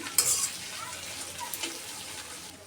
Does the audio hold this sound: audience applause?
no